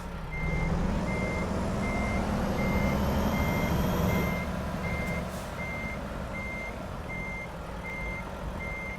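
A truck in American Truck Simulator backs up to hitch a trailer, its reversing alarm beeping steadily and rapidly over a continuous engine drone. A hiss and release partway through leave a quieter idle beneath the beeps.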